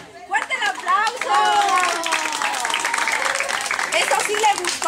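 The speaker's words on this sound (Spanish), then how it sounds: "¡Fuerte el aplauso!" Birthday party guests at a child's third birthday celebration clap and cheer together, steady applause mixed with excited voices and shouts from people close by.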